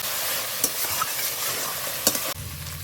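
Spice paste and potatoes for a duck egg curry sautéing in a pan, a close continuous sizzle broken by a couple of sharp spatula scrapes, with no voices.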